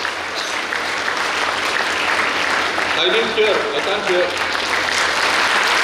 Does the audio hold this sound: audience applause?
yes